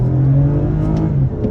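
A 2022 Toyota Avalon XLE engine pulls at about half throttle, a steady muted mid-pitched drone under low road rumble that eases off near the end.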